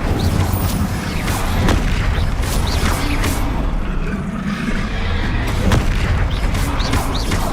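Spells cast in rapid succession during Hogwarts Legacy combat, including the Incendio fire spell, produce a dense, loud barrage of booming bursts and crackling impacts with sharp transients throughout.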